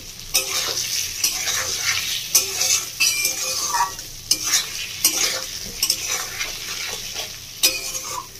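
Pointed gourd (potol) frying in oil in a wok, a continuous sizzle broken by frequent spatula clicks and scrapes against the metal as the pieces are turned, close and fairly loud.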